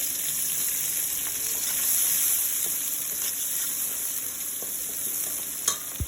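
Curry ingredients sizzling in hot oil in a wok (kadai), a continuous close hiss with a few faint clinks and a sharp scrape of stirring near the end.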